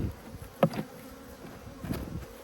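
Honey bees buzz around an open beehive during an apiary inspection, a steady close hum with individual bees zipping loudly past now and then.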